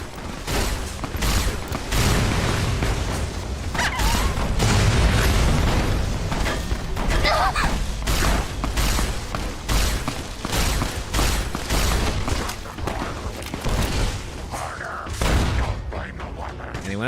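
Gunfire in Fallout: New Vegas as Vipers gang members are shot, sharp bursts and pops repeating in an irregular rhythm through the whole stretch, mixed with game sounds and occasional talk.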